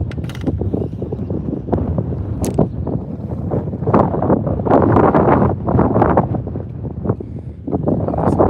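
Strong wind gusts roar across a lake during bass fishing from a boat, buffeting loudly and continuously in close, rumbling surges with some water noise beneath.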